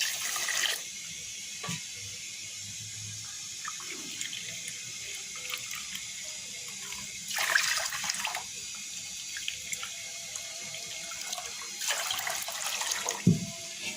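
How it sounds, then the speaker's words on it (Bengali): Three cups of water pour into a kadai holding two cups of sugar to make syrup. There are three short splashing pours, each a second or so long, with quiet pauses between them and no talking. "তিন কাপ পানি দিয়ে দিলাম"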